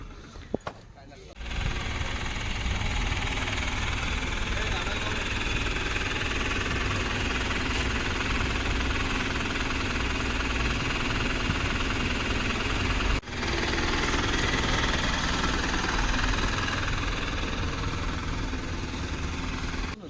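A Mahindra Supro van engine runs steadily at close range, a continuous idling rumble with vibration that holds for about twenty seconds, broken by a short dip near the start and another near thirteen seconds.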